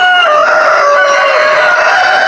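On a poultry farm where chickens are kept in coops, a rooster lets out one loud, close, sustained crow with other fowl faintly clucking behind it.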